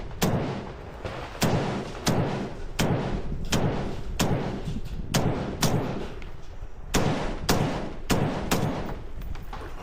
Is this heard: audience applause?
no